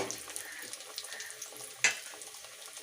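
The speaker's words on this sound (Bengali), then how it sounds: "ওইদিকে তেল গরম হয়ে গেছে আমি একটা একটা করে এই কলাগুলো ছেড়ে দিচ্ছি" Cornflour-coated green banana koftas dropped one at a time into hot oil, a soft frying crackle with a sharp splash-sizzle as one piece goes in.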